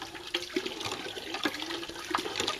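An old hand pump drawing water from a well at a fire tower lookout, with irregular splashing gushes and gurgles pulsing in uneven strokes, close and moderately quiet.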